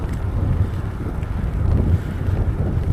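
Steady wind gusts buffet the microphone outdoors on a long-distance journey, a continuous low rumbling roar that swells and eases slightly throughout.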